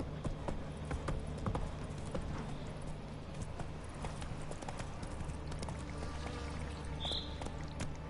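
Horse hooves clip-clopping in The Witcher 3: Wild Hunt, a fairly quiet, rhythmic run of hoofbeats over continuous game ambience, with no talking.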